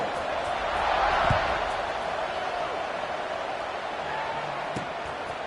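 Stadium crowd in a football video game, a steady broad murmur of many voices with a slight swell near the start, running continuously under an announcer's voice.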